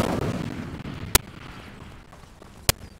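A fire spell cast in the Hogwarts Legacy video game gives a sharp, loud burst over a fading rumble, followed by a second identical crack about a second and a half later.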